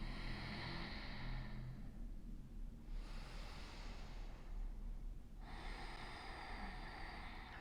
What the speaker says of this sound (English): breathing in through the nose and then out through the nose as well